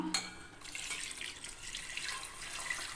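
Water pours into basmati rice for quail biryani in a soft, steady splashing stream after a short clink, continuing evenly at moderate volume with a trickling quality.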